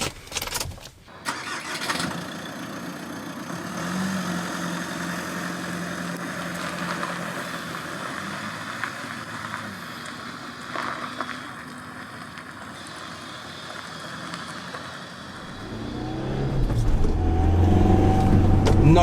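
A Nissan GTR's engine cranks and catches after a brief quiet start, then runs at a steady idle. Near the end the revs rise into a louder, deeper roar as the car drives off.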